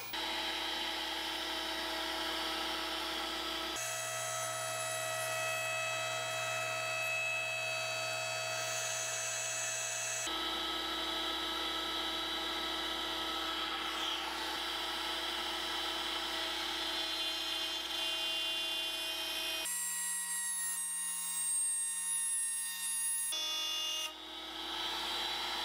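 A router plunge-cutting stopped dadoes into wooden wine box panels gives a loud, continuous high whine with steady tonal overtones, shifting pitch abruptly several times as the bit enters and runs through the wood.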